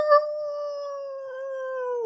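One long, steady howl rings out in a boxer's ring walk-out music, a single sustained wavering tone that holds clearly for about two seconds before dropping away at the end.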